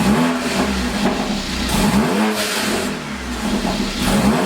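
A straight-piped Mercedes CLA45 AMG engine revving hard, its raw, loud exhaust rising and falling through several quick revs up close, with no talking.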